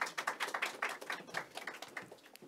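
A seated audience at an Incheon innovative education forum for parents claps to welcome the final presenter, producing steady, moderately faint rapid clapping with no talk over it.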